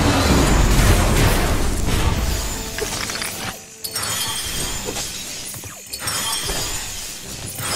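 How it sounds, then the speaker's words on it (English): Loud shattering burst from a shockwave attack breaking robot shields in the Knack video game, a dense crash of breaking and booming that fills the clip with a brief dip midway. "Knack, use the shockwave to take out those robots' shields."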